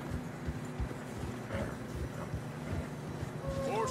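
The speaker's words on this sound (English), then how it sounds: "Horses are getting tired." Horses plod through fresh snow on a narrow trail in a western video game. Soft, steady hoof falls sound under a low wind hiss, and faint voices come and go.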